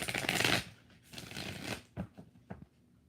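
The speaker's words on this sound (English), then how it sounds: "Two more shuffles." Tarot cards being shuffled by hand in several riffling bursts, a long rustle at first and then shorter flicks and taps, close and alone.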